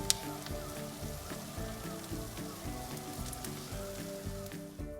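Pork skin sizzling steadily on a grill while roasting into crispy Chinese roast pork, a dense continuous crackle and hiss with bubbling pops, moderately loud and close, with no voices.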